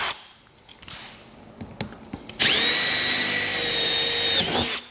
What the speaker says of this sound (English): I'm going to drill another one here at the side